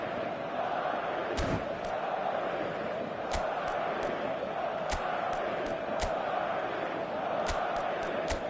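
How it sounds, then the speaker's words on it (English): A large football stadium crowd applauds and murmurs in a dense, continuous roar, with scattered sharp claps and thuds standing out above the steady wash of noise. "a lot of applause for the thought"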